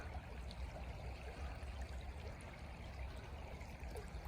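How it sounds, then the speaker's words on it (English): Swift river water flows in Ohio woods, a faint, steady rushing and trickling hiss that continues evenly without pause, distant and low in level, with no voices. "the water's just moving too swift"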